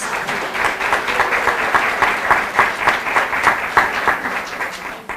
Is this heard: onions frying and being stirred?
no